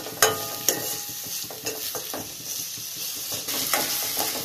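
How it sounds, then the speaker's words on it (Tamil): Large sliced onions sauté in a pan with a gentle sizzle for an Indian-style vegetarian macaroni, while a spoon scrapes and clinks against the metal in a few sharp knocks, close and moderately quiet. "நான் பெரிய சைஸா எடுத்திருக்கேன் வெங்காயம். இது வதங்கட்டும்"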